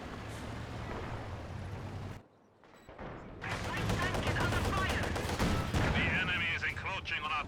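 MG34 machine gun bursts and other battle gunfire in the Company of Heroes 2 war game rattle loudly. A brief lull comes before a denser stretch of firing, with a commentator's voice mixed in.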